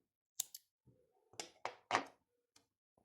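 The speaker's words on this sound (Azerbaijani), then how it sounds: "İpi kəsirəm." Scissors snip yarn after a crocheted leaf is finished, giving a few sharp close clicks and cuts in quick succession with quiet pauses between, no talking.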